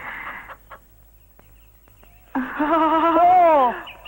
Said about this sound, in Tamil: என் மாப்பிள்ள நல்லாவே கோழி பிடிக்கிறார்.